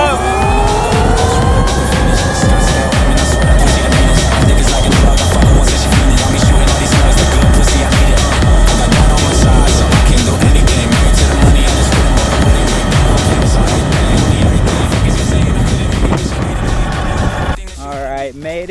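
An Altis Sigma MX electric motorcycle in race mode, its motor whine rising in pitch and then holding steady under loud rushing wind, close and continuous, until it cuts off at the end.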